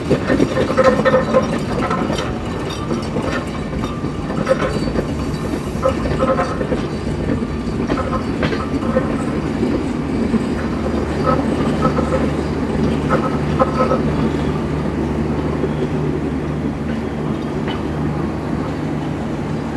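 The Rupsha Express runs toward Parbatipur junction, carriages rumbling steadily with rhythmic clickety-clack from the wheels over the rails, heard from inside the train, with a low engine drone underneath throughout.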